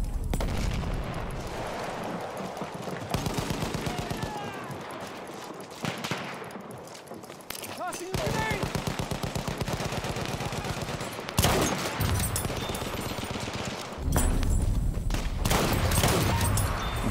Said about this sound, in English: machine gun right there!